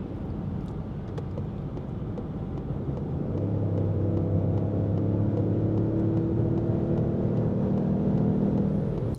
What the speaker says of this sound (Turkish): Gene gazı kökleyip çıkacağım.